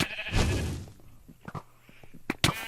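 Two short sheep bleats from Minecraft ring out clearly near the end, after a louder burst of game noise and scattered thuds, with no talk in the gap.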